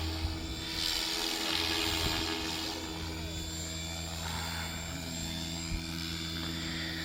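An RC model helicopter flies nearby with a steady high rotor whine and buzzing engine drone that shifts slightly in pitch as it maneuvers, continuous throughout.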